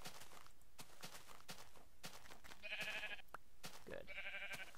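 Sheep in the Minecraft video game let out two bright, buzzy bleats over a run of sharp clicking footstep and block sounds.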